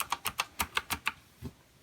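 Keys clack on an Azio Retro Classic backlit computer keyboard, seven quick, crisp close strokes in a steady burst, then a pause and one softer final keypress.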